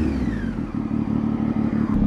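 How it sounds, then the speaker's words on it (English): A Triumph Tiger 800 motorcycle fitted with a LEXTEK slip-on exhaust runs at a steady pace on a ride, its exhaust note a close, loud, throbbing drone with a rhythmic pulse and no talking. "This is the first ride I am doing on my Tiger 800 after fixing that LEXTEK exhaust, slip-on exhaust."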